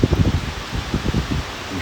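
Hurricane Ida's wind gusts against the microphone in close, rough buffeting bursts, a loud rustling roar with rain likely mixed into the noise and no voices.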